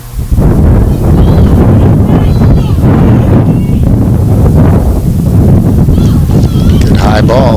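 Strong wind blowing across an outdoor soccer field during a high school boys' match, a loud, constant roar buffeting the microphone throughout, with a commentator's voice and distant shouts partly mixed in.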